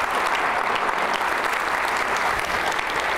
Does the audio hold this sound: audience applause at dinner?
yes